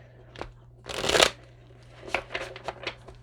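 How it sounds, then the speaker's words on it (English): A deck of tarot cards being shuffled, a loud riffle burst followed by several quicker, softer shuffles, close by against a low steady hum. "Let me get one more shuffle in before I start the read"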